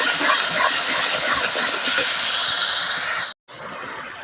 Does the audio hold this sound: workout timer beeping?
no